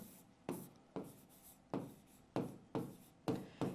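Marker or chalk strokes on a classroom board, a series of about nine short, sharp scratchy squeaks in an uneven rhythm, close and quiet, each stroke brief and separated by near silence.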